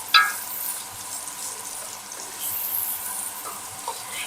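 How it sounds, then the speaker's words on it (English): Diced yellow onion dropped into hot butter and olive oil in a pan, a sharp initial hit followed by a steady soft sizzle and crackle, close but fairly quiet, no talking. "now that the butter and olive oil are all hot, we're going to add in our diced yellow onion"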